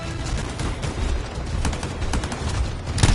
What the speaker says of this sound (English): Sentinels and a lot of gunfire.